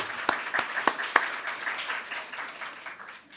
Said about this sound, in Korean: 여러분, 우리 박수 한번 드리고 시작하는 게 어떨까요?